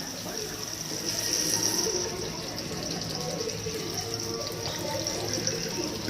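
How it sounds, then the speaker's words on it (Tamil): Tamarind water pours steadily into a pot of fish curry, a continuous splashing stream with a faint hiss, close by and uninterrupted for several seconds. "நல்லா கரைச்சி அதை தண்ணியை ஊற்றிக்கோங்க."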